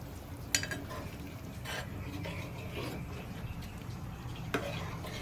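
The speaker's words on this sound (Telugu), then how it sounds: "ఇప్పుడైతే మనం రసం పోసుకున్నాము ఒకసారి కలుపుకుందామండి" A spoon stirs a taro root tamarind stew in a pot, giving faint scraping and rubbing against a low simmering bubble, with a couple of light knocks.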